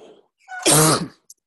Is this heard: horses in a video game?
no